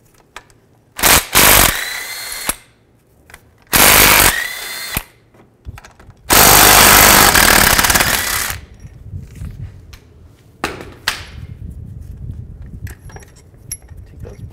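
A power tool driving a 13mm socket to remove the compressor mounting bolts on a 2008-2012 Ford Escape, in three loud whirring bursts with clinks of metal between them.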